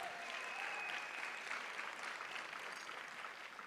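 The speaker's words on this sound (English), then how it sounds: "Another round of applause for them." A crowd claps steadily in continuous applause, fairly even throughout and slowly fading.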